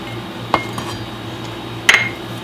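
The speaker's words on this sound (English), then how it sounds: "Now we need to stir it." Two light clinks of a spoon against a glass while stirring a blueberry almond milk smoothie, spaced about a second and a half apart, faint and close with a quiet background.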